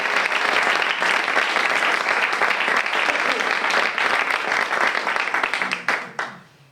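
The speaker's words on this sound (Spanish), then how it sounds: "Aplauso para doña Inmaculada Molinero." An audience at a literary storytelling evening bursts into sustained dense applause, steady and loud before tapering off at the end.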